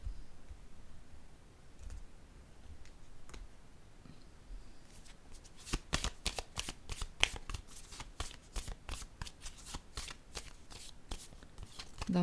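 Tarot cards being shuffled, first sparse soft riffles, then a rapid run of crisp, close flicking clicks through the second half, with faint speech in the background.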